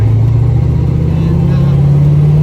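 A 1987 Mustang GT drives along a road with a steady low engine drone from inside the car that rises slightly in pitch, loud and close throughout.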